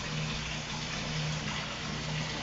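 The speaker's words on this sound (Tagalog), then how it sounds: "At haluin ko tubig." Water being stirred in a basin during hand laundry, a continuous close swishing and sloshing with a low steady hum underneath, moderately loud and with no voices.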